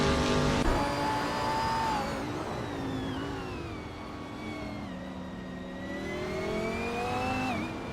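A 2021 Chevrolet Camaro's engine whines steadily in a racing video game, its revving pitch climbing and falling through gear changes, loud and continuous for the whole stretch with no talk over it.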